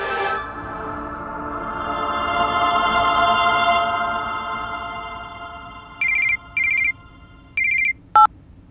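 A telephone ringtone sounds near the end as three short, evenly spaced rings, then a brief final chirp, after a sustained tone at the start.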